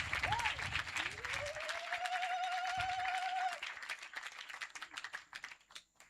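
A church congregation at a revival meeting in Libreville, Gabon, applauds and cheers, a dense sustained wash of clapping with a held sung or shouted voice rising above it, then fading into scattered claps.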